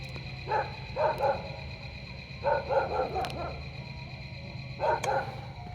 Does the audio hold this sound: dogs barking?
yes